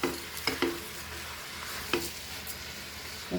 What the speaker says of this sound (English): Just fry this.